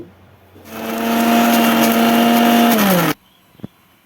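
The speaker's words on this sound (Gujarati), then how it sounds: "હવે ચાલો આપણે મિક્સરમાં એની ચટણી કરી લઈ" A kitchen mixer grinder blends chutney for Surti bhel. It whirs up loudly and runs at a steady high-pitched drone for about two and a half seconds, then cuts off sharply, followed by a small clunk of the jar.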